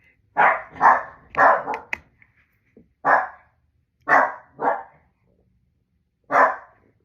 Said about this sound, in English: Okay, my little guard dog Murphy, there was nobody there